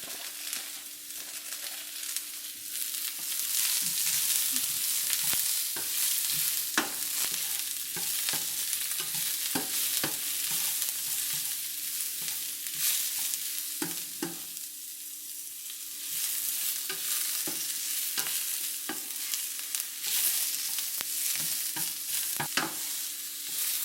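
Carrot pieces stir-frying in a hot pan while making fish with chili bean sauce, a steady broadband sizzle with frequent scraping strokes of the spatula, close and fairly loud, no voices.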